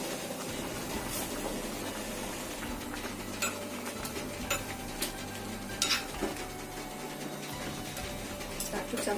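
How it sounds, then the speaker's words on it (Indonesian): Tempeh and spices being stirred in a dry pan with no oil, producing soft scraping and intermittent utensil clinks over a constant low background, with faint sizzling. "Ini kita aduk."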